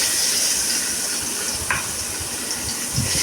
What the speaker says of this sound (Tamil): அதே கடாயில் கொஞ்சம் மசாலாவுக்கு தேவையான வெங்காயத்தை வதக்கிக்கிடுவோம்